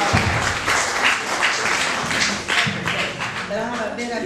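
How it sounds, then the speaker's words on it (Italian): A seminar audience in Altamura applauds, with dense, steady clapping throughout and voices mixed in underneath. "c'è un applauso alla nostra concittadina."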